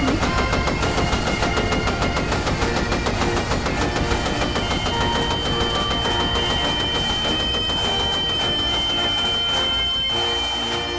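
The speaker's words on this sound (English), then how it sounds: "Get on the machine gun!" Sustained automatic gunfire from a machine gun in the video game Arma 3, a dense, loud, continuous rattle of rapid shots with no pause across the whole stretch, backed by steady battlefield noise.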